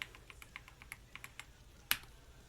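Soft, quick keystrokes tap on a computer keyboard while a password is entered in Linux Mint, a faint steady patter ending with one firmer key press, no voices.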